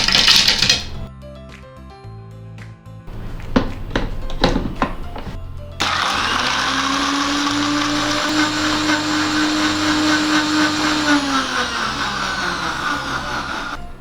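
A kitchen blender whirs steadily for several seconds as it churns curd, salt and ice into jeera buttermilk, loud and close, preceded by a few clinks and thunks as ingredients go into the jar.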